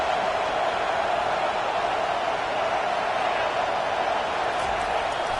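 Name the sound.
college football stadium crowd cheering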